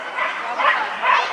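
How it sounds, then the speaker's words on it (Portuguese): Dog barking and yipping in a few short bursts during a dog sport match, fairly close, with people talking around it. "Ele late pra ela aí."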